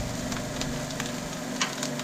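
Mushrooms sautéing in a pan for seafood pasta give a steady, close sizzle with soft crackles and a few brief stirring clicks, with no talk.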